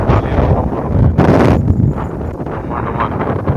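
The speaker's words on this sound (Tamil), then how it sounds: "கடல். சரியான காற்று." Strong wind blows in a loud, continuous roar across the microphone beside the sea in Taiwan, buffeting and rumbling without pause, with no clear speech above it.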